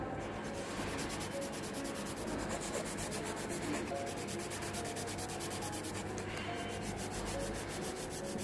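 A nail file scrapes in rapid, even back-and-forth strokes while shaping an acrylic nail extension, close up and continuous, with no voices.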